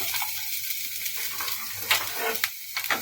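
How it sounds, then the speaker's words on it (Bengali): Carrots go into a pan of vegetables that is already sizzling, the frying a steady close hiss with a few sharper crackles and stirring scrapes near the end, and no voices. "দিয়ে দেবো গাজরগুলো"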